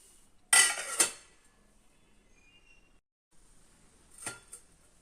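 A metal lid goes onto a pot of semolina in a quiet kitchen, two close clanks of metal on metal, then a fainter rattle a few seconds later.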